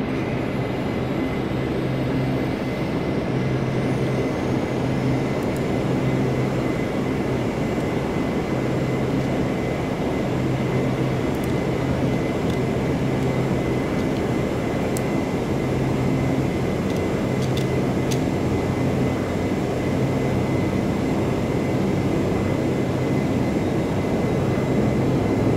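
Turboprop engines of a Majestic Q400 in a flight simulator drone steadily at high power, a loud, continuous roar with a constant tonal hum and no talk, holding level throughout.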